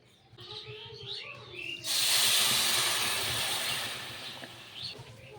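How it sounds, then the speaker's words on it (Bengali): Sugar and water boiling into syrup for a chana dal sweet, with a sudden loud steady sizzling hiss starting about two seconds in and easing toward the end, after quieter bubbling and faint chirpy background sounds. "এবারে চিনিটাকে ভালো করে ফুটিয়ে নেবো যতক্ষণ আর চিনিগুলো গলে আসছে আর রসটা বেশ আঠালো আঠালো আসছে ততক্ষণ আমি এটাকে ফুটতে থাকবো"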